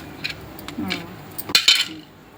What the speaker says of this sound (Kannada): ಒಂದು ಟೊಮೆಟೊ ಕಟ್ ಮಾಡಿ ಹಾಕೊಳತ್ತೀನಿ ಅದರಲ್ಲಿ